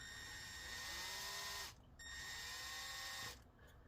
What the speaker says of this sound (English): If I'm gonna drill all of these,